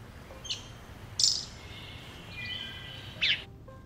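Wood thrush song drifts through the woods as three or four short, high, fluty notes spaced apart, faint and somewhat distant over soft outdoor ambience.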